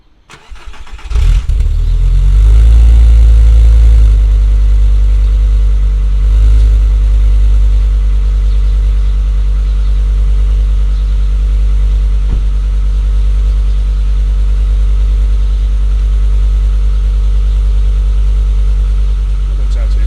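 A VW Golf Mk4 with a VR5 engine and Sportex exhaust, heard from behind, starts up and settles into a loud, deep, steady idle with a few small rises in revs. No one speaks over it.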